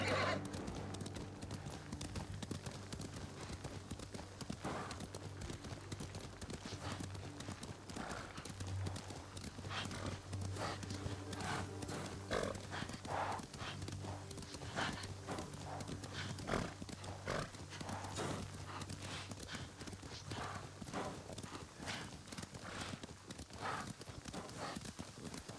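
Horses gallop in Ghost of Tsushima with a continuous, fast clip-clop of hooves, steady and fairly loud, and an occasional neigh mixed into the rhythm.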